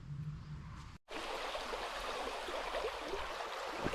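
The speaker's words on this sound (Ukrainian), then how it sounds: "Ось такою красою зустрічає нас чудова річка Іпел" Continuous broad rush of the Ipel river flowing over its bed, steady and fairly close, following a short quieter moment and a sudden cut, with no voices.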